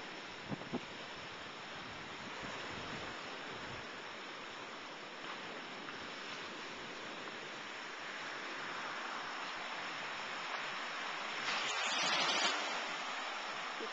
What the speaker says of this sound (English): You can hear the surf pounding